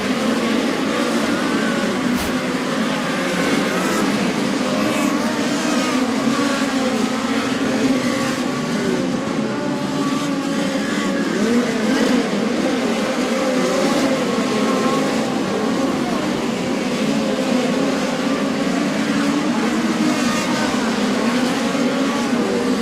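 Midget race cars race a dirt track at Lincoln Speedway on the Logan County Fairgrounds during a POWRi National Midget League feature, a continuous loud engine roar that holds steady throughout.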